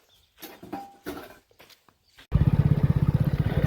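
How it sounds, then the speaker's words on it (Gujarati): A few scuffs and handling noises, then a motorcycle engine starts up close and runs with a loud, rapid, pulsing putter. "હવે આપણે બાઇક લઈને ચડી છે રસ્તા એ પર"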